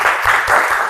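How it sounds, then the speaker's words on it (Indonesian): Audience clapping at the close of a school presentation, with dense, steady applause that sounds loud and near, lasting the full second with no voices on top. "Tepuk tangan dulu."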